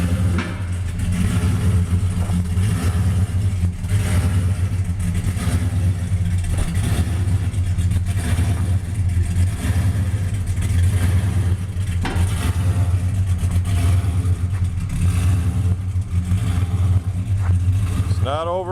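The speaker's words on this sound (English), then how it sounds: "he's backing it out of the lift area here" A 1964 Dodge 330 two-door sedan with a 426 Hemi V8 backs slowly out of a lift area outdoors, its engine holding a steady, deep idling rumble close by for the whole stretch.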